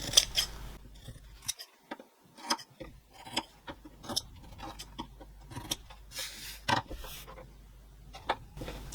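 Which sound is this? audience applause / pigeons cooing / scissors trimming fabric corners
scissors trimming fabric corners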